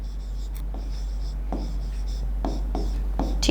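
Chalk or marker writing on a classroom board, a series of short scratchy strokes and taps in an irregular rhythm over a steady low electrical hum.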